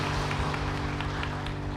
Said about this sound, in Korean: 주님께 박수를 좀 올려드릴 수 있습니다.